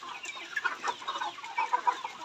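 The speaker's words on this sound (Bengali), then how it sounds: "ভিডিওর মধ্যে যে লেয়ার মুরগি রেডি পুলেটটা দেখতে পাচ্ছেন সেটা হচ্ছে কাজী কোম্পানি হাইল্যান্ড লেয়ার মুরগি একটা রেডি পুলেট।" Kazi Highland layer pullet chickens, about 100 days old, clucking on a layer farm, with a close run of short, uneven clucks and chatter from several birds and no talking.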